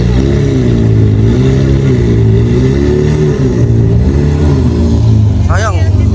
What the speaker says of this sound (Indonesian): Ini suara khas V10 nih.